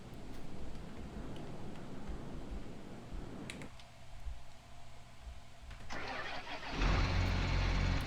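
A farm vehicle's engine in a farming video game, near a Case IH Magnum tractor, cranks and fires up, the starter clatter giving way to a loud, steady low rumble near the end.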